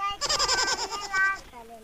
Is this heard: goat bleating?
yes